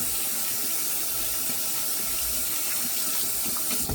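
Running tap water pours steadily over a shaving brush to rinse soap out, a constant close splashing hiss with no pauses and no voices.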